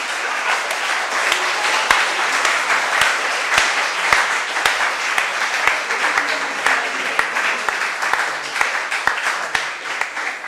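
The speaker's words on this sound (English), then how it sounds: "let's give a handsome round of applause to the patients" An audience at a patient counseling competition final gives sustained applause for the patients, a dense wash of clapping with sharp individual claps standing out throughout.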